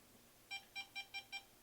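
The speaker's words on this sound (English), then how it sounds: "as I move the sensor to the side, it will start to beep" Five short electronic beeps in quick, even succession, faint against a quiet background, from a small handheld EMF meter moved beside a Radiant Saunas BSA6310 sauna.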